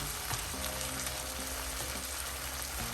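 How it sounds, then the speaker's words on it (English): Ground beef cooks in a pot with seasoning being stirred in, a continuous close sizzle over faint steady scraping and stirring, with no voices. "once you have your seasoning, you just want to stir them to mix them in"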